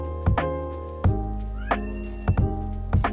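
A house cat meows several times in a row, loud and close, each call a distinct rising and falling cry with short pauses between, with no talking over it.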